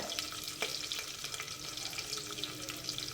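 Onions frying in a pan for a karmeen fish curry, a close, steady bubbling sizzle with a few light clicks and no voices.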